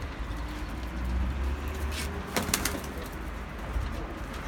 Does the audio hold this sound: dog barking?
no